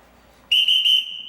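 A single sharp whistle blown to summon a household, beginning after a near-silent moment as one sustained high shrill tone with three slight pulses, fairly close and clear, fading slightly at the end.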